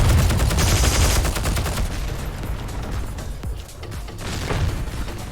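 Rapid bursts of M2 gunfire in the shooter Heroes & Generals, loud and close, with dense sustained automatic fire that thins briefly in the middle before resuming, no voices over it.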